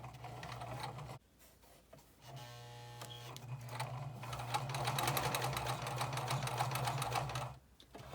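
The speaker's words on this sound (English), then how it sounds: "start your edge stitching, so you're sewing very close to the edge of the pocket" A sewing machine edge-stitches close to the edge of a fabric pocket: rapid mechanical whirring runs in bursts, stops twice briefly, and is close and clear with no talking.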